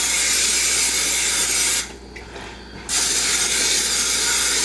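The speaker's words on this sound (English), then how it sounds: "Now I'm going to spray my pans." Cooking spray is sprayed onto baking pans for pumpkin spice cinnamon rolls, a single close hiss of about a second that cuts through a loud, steady background noise.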